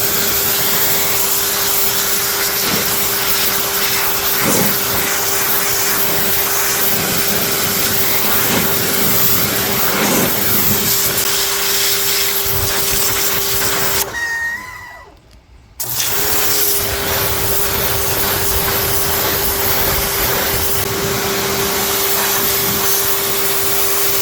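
A Portland pressure washer from Harbor Freight blasts tree sap off a surface beneath pine needles, a loud steady hissing roar with a constant motor hum that cuts out briefly near the end before resuming.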